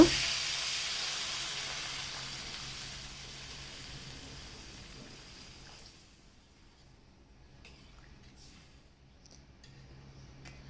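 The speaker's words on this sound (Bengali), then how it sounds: "এখন পরিমাণ মতো জল দিয়ে দিব" Water poured over winter vegetables frying in a pan sets off a loud sizzling hiss that slowly fades and drops away to a faint, quiet crackle.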